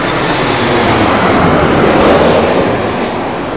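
An Icelandair jet airliner passes low overhead on arrival at Heathrow, a loud, steady, close roar of engine and airflow filling the whole few seconds without a break.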